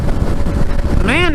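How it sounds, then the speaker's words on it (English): Outdoors in Colorado, wind buffets the microphone in a loud, continuous low rumble while a person talks over it. "man, that wind."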